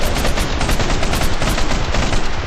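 Sustained AK machine gun fire in a video game, a dense rapid stream of loud close shots rattling continuously without pause.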